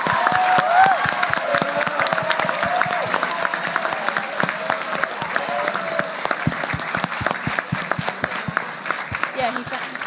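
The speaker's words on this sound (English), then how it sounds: "Clapping is in order." Assembly hall applause after a resolution passes, a crowd clapping loudly and continuously for ten seconds with sharp individual claps standing out and voices murmuring underneath.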